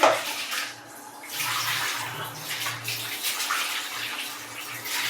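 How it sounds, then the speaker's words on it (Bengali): Fish being rinsed again in water in a home kitchen during lunch cooking, a steady splashing wash that runs continuously at close range with no talking. "এই মাছটা ধুয়েছি একবার আবার একটু ধোয়া দিলাম"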